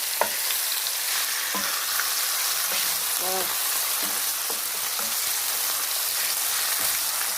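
Mackerel fries in a pan with a loud, steady hiss and crackle, dotted with scattered taps and scrapes while it is flipped. A faint voice sounds once briefly under the sizzle.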